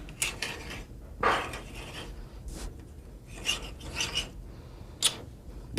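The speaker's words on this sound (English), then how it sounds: "Now we're going to clean that cut up with this finishing reamer." Finishing reamer cleaning up a cut in a Colt 1911 pistol slide, giving a series of short metallic rasping scrapes in uneven bursts, close and fairly quiet.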